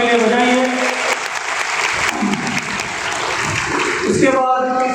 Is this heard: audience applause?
yes